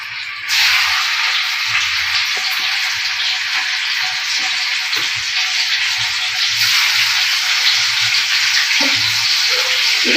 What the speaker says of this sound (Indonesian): Jadi ini tak goreng tuna.